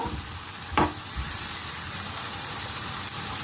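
Chopped green chillies sizzle in hot oil with a steady, loud frying hiss and a brief stirring scrape near the start, with no voices.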